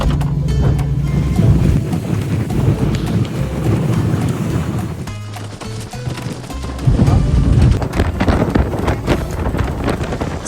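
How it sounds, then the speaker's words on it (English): A boat ride across Lake Atitlan in Guatemala, taken from the front seat on a bumpy crossing, gives a steady loud engine drone with wind buffeting the microphone and thumps from the hull slapping the water. "after the bumpy boat ride, we are here in Panachal"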